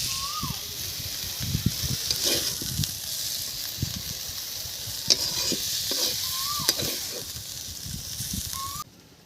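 Freshly picked Malabar spinach greens fry in a pan as a utensil stirs and scrapes them, a soft steady sizzle broken by irregular clacks and shuffles of the spoon close by.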